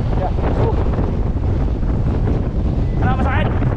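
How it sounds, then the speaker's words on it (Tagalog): Strong wind buffets the microphone on Bokor Mountain in Cambodia during an uphill bike ride, a loud, constant roar with a brief voice near the end. "Very strong wind."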